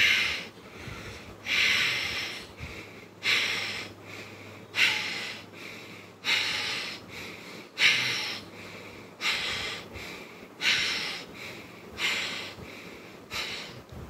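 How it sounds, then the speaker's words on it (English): Ujjayi pranayama breathing with an audible throat sound during a cooling yoga practice, a slow, even series of about nine hissing breath cycles, close and clear with no talk. "And the breathing should be here this way with a sound inside."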